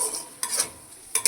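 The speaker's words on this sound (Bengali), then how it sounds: "সব কিছুকে একসাথে কষিয়ে নেব।" Spices, including cumin and Kashmiri chilli powder, being stir-fried together for katla fish curry make a soft continuous sizzle broken by two or three short, sharp scraping strokes of a spoon in the pan.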